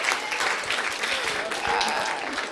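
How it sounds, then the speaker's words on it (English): A classroom claps for a teacher in a burst of applause from many hands, fairly close and continuous, with a few voices mixed in. "Clap for your teacher."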